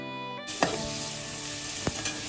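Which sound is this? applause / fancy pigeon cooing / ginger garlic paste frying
ginger garlic paste frying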